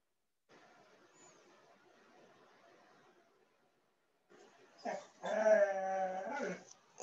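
A dog whimpers and whines indoors in a home studio, a faint rustling stretch followed by a louder, close, drawn-out high-pitched whine with wavering tone.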